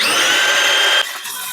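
A power saw set to a 15-degree angle whines loudly as it runs through wood for a sparrow nest box, holding a steady high pitch for about a second before dropping abruptly as the cut ends.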